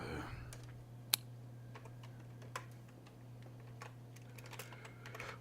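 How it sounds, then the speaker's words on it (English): Fingers tap at a computer keyboard in quick, irregular bursts, with one sharp louder keystroke standing out against a faint steady hum. "More typing"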